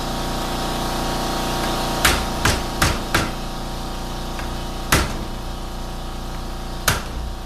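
Sharp metallic hammer taps on a screwdriver while working on a 4L60E transmission during teardown: a quick cluster of four strikes, then two more spaced single hits, over a steady mechanical hum.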